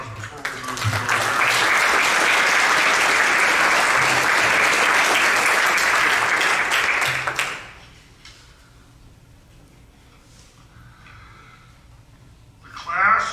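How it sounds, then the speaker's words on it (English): Sustained, loud applause from a crowd at a Graduate Hall of Fame presentation at Topeka West, honoring recipients and their families, filling about seven seconds before fading to quiet room tone and a brief rustle. "Let's give today's recipients and their families one more round of applause"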